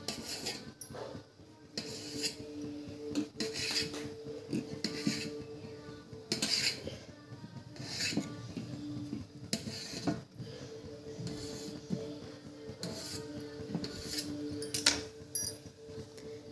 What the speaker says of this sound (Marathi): याचे छोटे छोटे काप करायचे